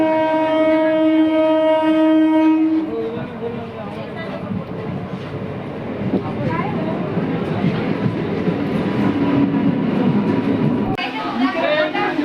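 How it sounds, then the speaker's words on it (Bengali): A train rumbles into a station loudly with a long horn at the start, followed by heavy rolling clatter and screeching wheels as it pulls in nearby. "ট্রেন ঢুকছে।"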